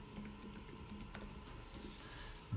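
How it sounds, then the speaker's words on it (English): Quick, light clicks of typing on a computer keyboard patter steadily over a faint hiss, close and quiet, with no one speaking. "Let me type it in for you, bro."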